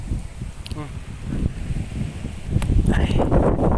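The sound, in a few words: strong wind while rain begins at sea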